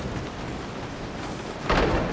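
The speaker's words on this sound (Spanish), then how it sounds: "Tiene que estar lloviendo" Rain and thunder in the video game Resident Evil 7: steady rainfall hiss throughout, then a loud thunder rumble swells near the end and lingers.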